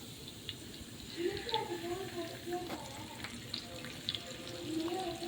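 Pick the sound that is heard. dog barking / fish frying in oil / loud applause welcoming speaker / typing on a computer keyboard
fish frying in oil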